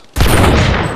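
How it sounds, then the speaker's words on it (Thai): Machine gun fire in a GTA video game, a sudden loud, close burst of rapid shots that starts abruptly after a quiet instant and sustains to the end. "มันเอาปืนกลยิงไกลวะ"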